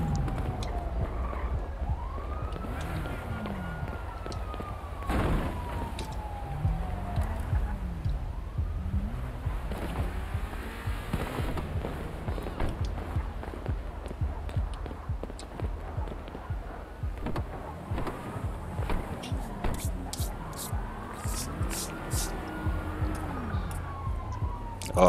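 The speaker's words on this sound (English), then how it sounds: "Oh, I hear some sirens, cuz." Police sirens in a roleplay video game wail and yelp at a distance over a car's rumbling engine and rhythmic thumping, rising and falling repeatedly throughout.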